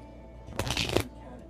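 A deck of playing cards gets one quick riffle shuffle, a short crisp burst of flicking cards up close during a magic trick, set against quiet room tone.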